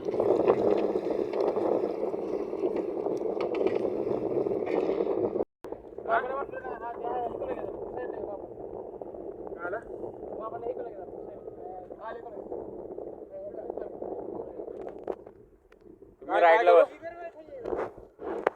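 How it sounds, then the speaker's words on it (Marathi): A small motorboat on the water, its engine a steady low drone with wind buffeting the microphone, while people talk nearby over the motor. "ही आहे आपली बोट. या बोटीतून आपण जाणार."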